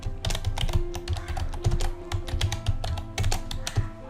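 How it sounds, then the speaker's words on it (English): Rapid typing on a nearby keyboard, keys clicking in short irregular bursts over a faint hum. "typing the same password,"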